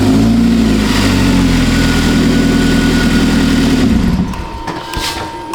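A Hyundai car engine runs at a steady, loud idle with strong low harmonics for about four seconds, then cuts off abruptly, leaving only quiet background noise.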